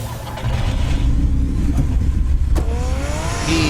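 Batmobile engine in Batman: The Telltale Series game revving hard, a loud, close rumbling roar that surges after a brief lower idle, with a rising whine and sharp mechanical clunks toward the end.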